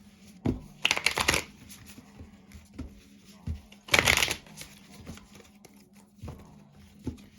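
Tarot cards being shuffled for a psychic reading, close and fairly quiet, with two longer riffling bursts and several single soft taps and slaps between them, and no talk.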